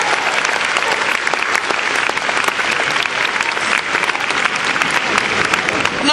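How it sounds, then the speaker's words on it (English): A big audience at the Crufts international agility competition claps enthusiastically, a dense, loud and steady round of applause that carries on without a break. "Big round of applause for Walter Sontrop and Dice."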